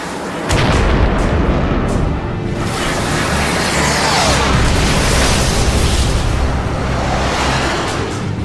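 A missile strikes a MiG jet in aerial combat and it explodes, giving a sudden loud boom that rolls into a sustained, heavy roar of blast and engine noise.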